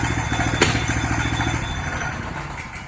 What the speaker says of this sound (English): To engage your throttle, squeeze in on it, and your bit's gonna start.